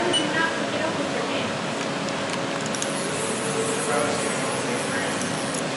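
A CNC machine spindle runs with a steady, broad whirring hum at a constant level throughout, a few faint higher whines above it, with a voice talking over it.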